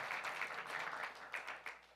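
A church congregation at a Sunday morning service applauds together, a steady wash of many clapping hands heard from a distance at moderate volume, tapering near the end with a few louder claps.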